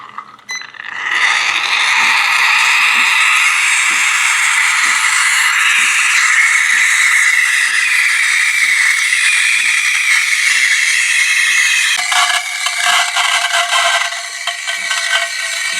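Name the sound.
Casabrews espresso machine steam wand hissing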